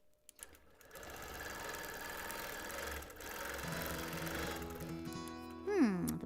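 A sewing machine runs during free motion quilting on 30s reproduction print fabric, a faint continuous rapid stitching hum that holds steady for several seconds, ending with a brief high whine.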